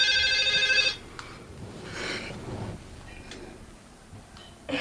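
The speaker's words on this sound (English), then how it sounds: "Your phone is ringing." A phone rings in a short electronic burst at the start, then stops, leaving a quiet room with faint shuffling.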